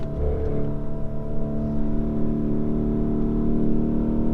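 Lamborghini Urus engine droning steady and close as the SUV brakes and downshifts, a continuous loud low hum with no one speaking.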